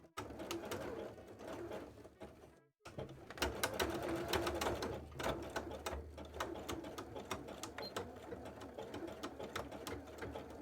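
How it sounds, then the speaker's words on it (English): A sewing machine stitches fabric for a cosplay gift in steady whirring runs, stopping briefly once before carrying on, with faint cooing birds in the background. "Let's do a little bit more stitching on this."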